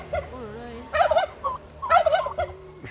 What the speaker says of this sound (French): Mais il y a une poule là, c'est des poules ça.